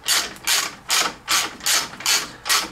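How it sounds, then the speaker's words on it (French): A wrench loosens the nut holding the coil spring on a Peugeot 206 shock absorber, giving seven evenly spaced bursts of rapid ratcheting clicks, close and fairly loud, with short pauses between strokes. "je vais desserrer le ressort. Je vais débander le ressort."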